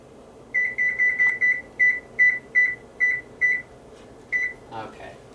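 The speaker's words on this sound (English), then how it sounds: "Now I better kick the oven on." An oven's control panel in a home kitchen, set for baking bread, gives about eleven short, clear electronic beeps in a quick run as it is switched on. A brief rustle follows.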